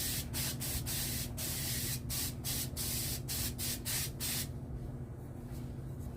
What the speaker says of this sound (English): So I'm going to just lightly spray